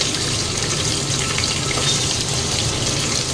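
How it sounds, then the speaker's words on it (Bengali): Potatoes frying in a pan during home cooking for a puja offering, a dense, even, close sizzle that stays constant throughout with no speech. "আলুটা একটু ভালো করে ভেজে নেবো"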